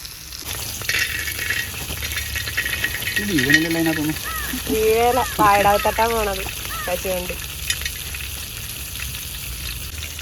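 Food sizzles and fries in a heated pan with a steady crackling hiss, while a person speaks over it partway through.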